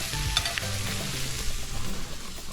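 Fish fries in a pan on a stove set to medium heat, giving a steady, loud, close sizzle with occasional soft stirring and shifting sounds.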